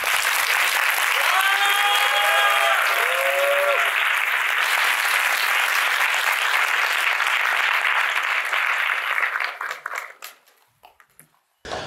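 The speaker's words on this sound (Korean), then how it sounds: "큰 박수 부탁드립니다." An audience at a university social science talk concert applauds, a dense, loud, sustained clapping that runs for several seconds before thinning into scattered claps and fading out, with faint tonal sounds early on.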